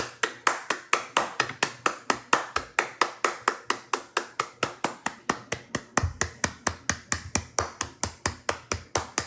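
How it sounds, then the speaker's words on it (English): Steady, rhythmic hand clapping, around four claps per second, sharp and close, continuing evenly throughout with a faint low thump under part of it. "Clap it out."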